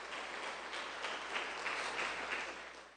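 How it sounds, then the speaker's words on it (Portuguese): Applause from a church congregation during a Friday evening service, steady and fairly faint, with a few louder swells and no talk over it. "dê uma forte salva de palmas para o Senhor Jesus"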